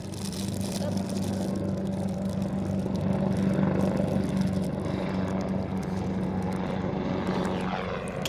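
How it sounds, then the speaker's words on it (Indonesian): A helicopter passing overhead makes a steady droning rumble that holds throughout, while people chat nearby over it. "Ada helikopter lewat."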